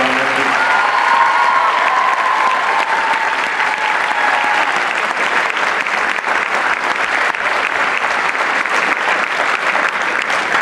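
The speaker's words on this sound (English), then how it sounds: "So could you give a round of applause for our announcer?" Sustained audience applause at a marching band show, steady and loud for the whole stretch with a faint crowd murmur mixed in and no talking.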